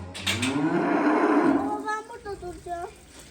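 A cow on a dairy farm lets out a loud, close, drawn-out low moo, followed by a few shorter voice-like calls.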